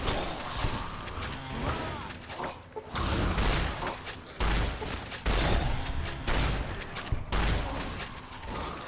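Gunfire in the video game Fallout New Vegas, a zombie siege mod, with dense bursts of shots and booming impacts sounding almost continuously over several seconds, loud and close with brief gaps.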